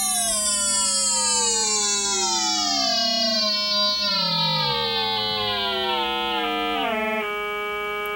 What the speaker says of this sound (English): You hear how every now and then we hit a regular tone, a pure ratio.